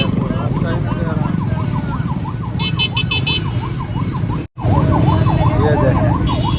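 Ambulance stuck in heavy city traffic, its siren cycling rapidly and loudly nearby over engine rumble, with a brief cut in the middle and a short horn burst.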